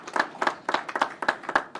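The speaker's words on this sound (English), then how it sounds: "Let's give him a round of applause" Applause at a county officials' public safety briefing, heard as a sparse run of distinct, close hand claps in a steady rhythm, with only a few people clapping.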